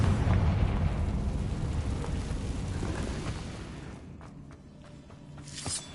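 A Confringo fire spell blast in Hogwarts Legacy, a loud rumbling explosion that fades over several seconds, followed by faint scattered pops and crackles.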